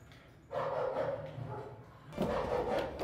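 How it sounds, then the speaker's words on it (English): Puppies bark and yip in an indoor room, in two bursts of small excited yapping separated by a brief lull, fairly faint. "let me introduce you to my sweet puppies"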